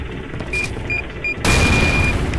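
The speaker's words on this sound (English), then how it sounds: "Throw a sticky bomb there." A sticky bomb exploding in The Haunted: Hells Reach game, a sudden loud boom midway that stays as a heavy rumbling roar after a few short beeps, with no talking.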